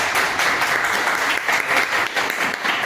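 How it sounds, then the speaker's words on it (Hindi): Loud, dense applause from an audience welcoming a guest at an event, continuous and even throughout with no talk over it. "एक बार सब लोग तालियों से स्वागत करते हैं।"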